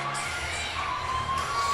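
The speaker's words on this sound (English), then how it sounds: "Crowd appreciative of the Lancers." Appreciative crowd cheering at the 2023 ECC Division II cheerleading championship, a steady wash of shouting and applause with brief shrill yells rising above it.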